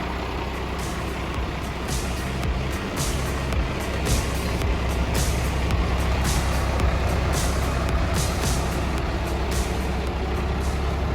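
A truck rumbles in with a low, steady engine drone, repeated sharp hisses of air brakes punctuating it, arriving to deliver a car carried on the back of its tray.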